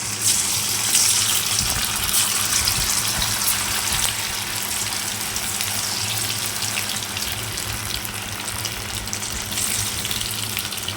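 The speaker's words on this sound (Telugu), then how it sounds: "తర్వాత కలిపి ఉంచుకున్న ఆలు ముక్కల్ని మనం ఫ్రై చేసుకోవాలి" Potato pieces fry in hot oil with a loud, steady, bubbling hiss that holds unbroken for the whole stretch, with no voices.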